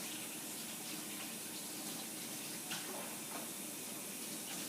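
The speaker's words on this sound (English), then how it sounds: "I'll wash my hands." Tap water runs steadily from a faucet for several seconds, a continuous hiss with no talking, as hands are washed after cooking chicken katsu.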